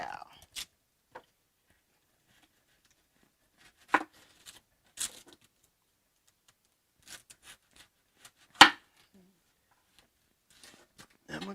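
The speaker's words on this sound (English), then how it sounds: "I'm going to cut up a whole onion." A knife cutting up a whole onion on a board, giving sparse, scattered chops spread across quiet stretches, fairly close and alone with no talk over them.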